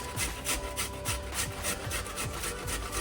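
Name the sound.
grating fresh fruit on a grater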